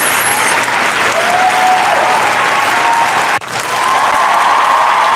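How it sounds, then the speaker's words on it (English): Loud, dense applause from a crowd during a live stream, a continuous wash of clapping that briefly dips midway before swelling back, with no talk over it. "we'll give you a round of applause"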